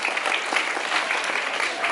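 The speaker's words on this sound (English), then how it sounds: "Can you clap for Mr. Terence?" Hall audience at a national schools chess championship in Kenya applauding a welcomed official, a dense, even wash of many hands clapping together, loud and close, with no speech over it.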